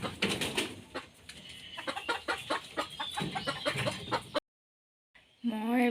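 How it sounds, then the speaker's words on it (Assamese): Chickens clucking close by in a dense run of rapid, overlapping calls for about four seconds, then a brief silence before a single drawn-out, tonal call at the end. "আপোনালোকক মুৰ্গী দেখালোঁ"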